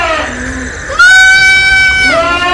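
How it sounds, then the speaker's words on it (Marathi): Young Beetal goat kids, about two weeks to a month old, bleat loudly and close by on a goat farm, one long wavering cry over another, sustained and overlapping. "हे आहेत शेळ्यांचे बिटल बोकडाची पिल्लं"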